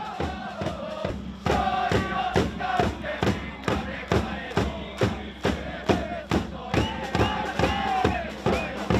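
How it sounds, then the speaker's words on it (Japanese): AC Nagano Parceiro football supporters who travelled to Osaka for the J3 League season opener, a night match, chant loudly in a steady rhythmic cadence, with sharp regular beats of clapping or drumming driving each shout. "遠く大阪の地まで駆けつけたサポーターたちも大きな声援を送っています"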